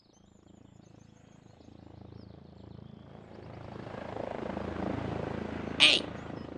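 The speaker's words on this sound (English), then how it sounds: "You don't take too kindly helicopters in this world." Helicopter in the side-scrolling game SANABI, a rotor drone that swells from faint to louder over a few seconds, ending with a sharp bright chirp-like impact near the close, with no talk.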